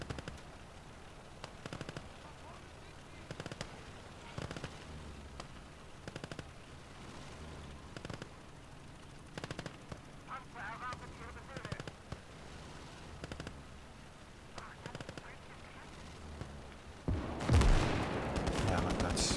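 Machine gun fire in the Gates of Hell strategy game during a Battle of Moscow skirmish, heard as repeated short distant bursts and pops over steady background rumble, with a louder blast near the end.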